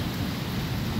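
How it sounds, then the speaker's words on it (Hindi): Heavy early-morning rain in Lahore, Pakistan, heard as a steady, dense wash of noise with a low rumbling undertone, continuous and even over a short stretch. "बारिश अभी तक हो ही जा रही है"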